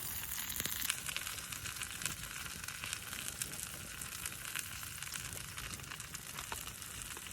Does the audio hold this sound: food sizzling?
yes